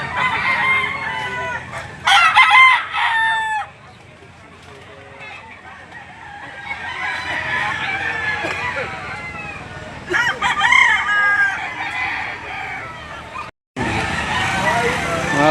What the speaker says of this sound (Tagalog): Magandang klaseng manok mga boss.